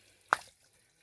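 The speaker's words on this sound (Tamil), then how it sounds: "தண்ணி லீக் ஆகிட்டுருக்குது." A leaking river-water pipeline on farmland near Sathyamangalam, Erode, gives a single faint drip or plop that rings briefly and then fades into near silence.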